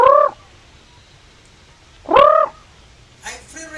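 Free-range bantam chickens in a backyard give two clear, close calls a couple of seconds apart, then a softer burst of clucking.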